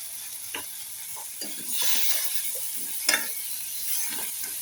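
Onions and garlic sautéing with a pinch of salt in a pan, a steady hiss of frying with intermittent scraping and stirring strokes, close and fairly loud.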